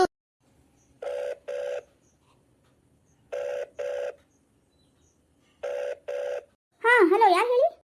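A telephone rings in three pairs of close, loud electronic double rings separated by pauses, followed by a brief burst of voice.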